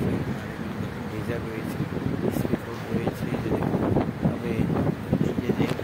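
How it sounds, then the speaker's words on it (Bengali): Strong wind roars and buffets the microphone at a river ghat during rain, a continuous rumbling gust with a person talking over it. "প্রচুর বাতাস, দেখছেন"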